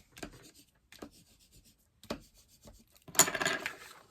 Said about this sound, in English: now you're going to burnish that down